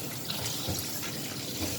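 Tap water runs steadily into a kitchen sink while raw chicken is washed, a continuous close splashing rush with no talk.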